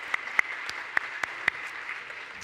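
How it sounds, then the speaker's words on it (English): Sparse clapping at an arts and humanities awards ceremony, just a few scattered claps spaced irregularly over a soft background hum, thin and fading rather than a full ovation. "So a round of applause for those friends."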